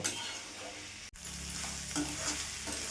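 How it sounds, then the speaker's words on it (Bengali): Fried potatoes and pointed gourd are stir-fried with spice paste in a pan, giving a close, steady sizzle with scraping stir strokes and one brief break. "এবার ভেজে রাখা আলু পটলগুলো দিয়ে দেবো এবার আলু পটলের সাথে আরও আমি দু থেকে তিন মিনিট কষিয়ে নেব"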